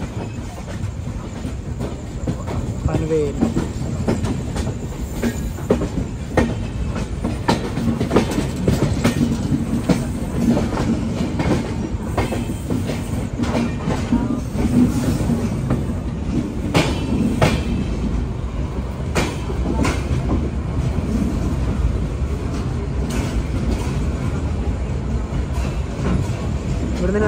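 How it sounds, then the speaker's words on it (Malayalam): A Kochuveli–Bhavnagar Express sleeper coach rolls into Panvel Junction railway station, giving a loud, continuous rumble and rhythmic wheel clatter throughout, with a voice speaking briefly over it. "പനവേൽ ജംഗ്ഷൻ റെയിൽവേ സ്റ്റേഷനിലേക്ക് വണ്ടി എത്തിക്കൊണ്ടിരിക്കുകയാണ്."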